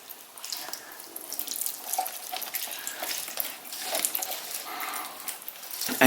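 Water pours steadily from a small spout onto potted pothos and philodendron vine plants indoors, a soft continuous trickle and splash that stays fairly quiet and close, with no talk.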